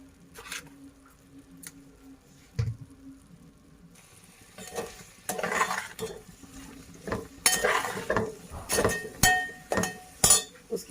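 A spoon clinks and scrapes against a pot while vegetables and spices are mixed for a Sindhi veg biryani, with sparse taps at first, then a faster run of clattering strikes and stirring patter, up close.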